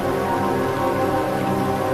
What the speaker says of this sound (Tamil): மழை நீர் பூமியை சந்திக்க வேகத்துடன் பொழிகின்றது